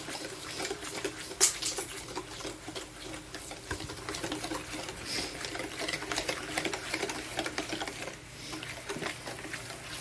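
A whisk scrapes steadily around a mixing bowl of brownie batter and dissolving sugar, a continuous close clatter with no talking.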